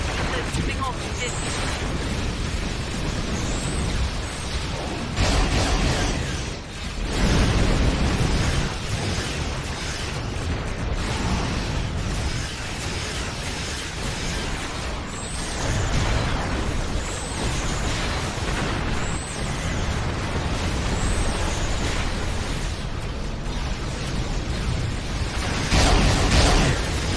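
Repeated booming explosions and bursts rumble over a loud, busy starship battle soundscape against Klingons in the video game Star Trek Online, with people talking intermittently and faint high chirping blips.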